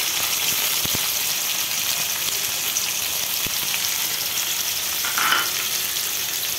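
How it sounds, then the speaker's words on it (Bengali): Cubed carrots and vegetables frying in a pan, a steady bright sizzle throughout with a few sharp taps and scrapes as they are stirred. "এগুলো একটু ভেজে নিব নাড়াচাড়া করে"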